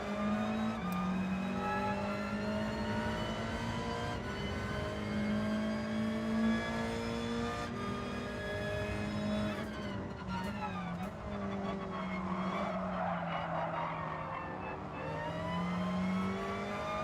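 A race car drives through corners in Gran Turismo 7, its engine droning steadily with shifting pitch and rising revs, and a tire squeal comes in near the end. Everything holds at an even, continuous level for the whole stretch.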